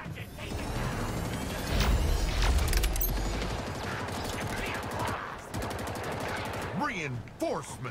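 Video game gunfire, heard as a dense, loud burst of rapid automatic fire and mechanical clatter, followed by scattered shots and electronic effects, with a voice speaking faintly in the mix.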